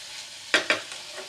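Potato and eggplant curry being stirred and sautéed in a pan, with two quick scraping stirs over a soft background sizzle, close and fairly quiet.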